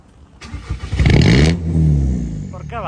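A Volkswagen Golf GTD with a stage 2+ tune starts up and settles into a loud, steady idle close by, with a brief rise in revs along the way.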